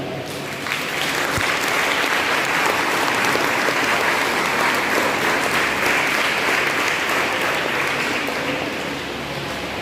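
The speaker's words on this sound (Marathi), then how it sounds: "सर्वांनी सरांच्या या कार्याचा गौरव करण्यासाठी जोरदार टाळ्या वाजवा" Sustained loud audience applause fills a school annual prize-distribution ceremony at Jawahar Navodaya Vidyalaya, Nandurbar, dense steady clapping from a large crowd rising quickly and holding for nearly ten seconds without talk.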